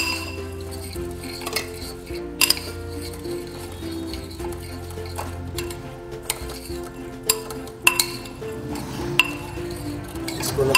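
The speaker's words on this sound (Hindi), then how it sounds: "और फिर हम इसमें ऐड करेंगे नट्स और हम इनको अच्छे से मिक्स करेंगे" Nuts being stirred into a high-protein laddu mixture in a bowl give a steady run of close clinks and scrapes from a spoon against the bowl, with several sharper knocks standing out, and no one talking.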